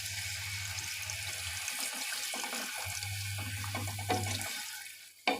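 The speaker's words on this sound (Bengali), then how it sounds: "এবার দিয়ে দেব পরিমাণ মতো জল।" Water running steadily from a tap into a pot of raw banana curry with spices, a continuous splashing stream that pauses briefly midway, then ends with a clatter.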